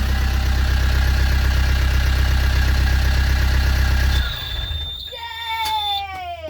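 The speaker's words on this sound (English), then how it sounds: "This should now turn the engine on." A narrowboat's engine runs with a loud, steady low rumble that cuts out abruptly after about four seconds, leaving a quieter background with higher tonal sounds.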